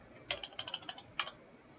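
Quick clacking keystrokes on a computer keyboard as a command is typed: a short burst of about eight taps, a pause, then a couple more, close and quiet.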